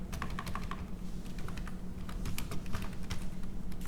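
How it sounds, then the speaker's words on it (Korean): Keys clatter in a steady run of close, crisp clicks as an address is typed on a computer keyboard, over a low background hum with no speech. "주소는 타자로 치면 돼요"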